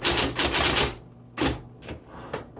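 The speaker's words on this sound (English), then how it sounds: "let me just type a couple things" Vintage 1960s Smith Corona Electra 120 electric typewriter typing with a red ribbon: a fast, loud run of sharp key strikes, then a pause and a few separated clacks, close up with no talking.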